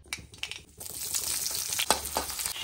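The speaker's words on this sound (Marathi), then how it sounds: "येथे आपण कढई चढवली आहे, त्यामध्ये थोडं तेल घातलेलं आहे." Oil sizzles and crackles in a kadhai as poha is being cooked, a steady close frying hiss with bursts of stirring and crackle, no voices over it.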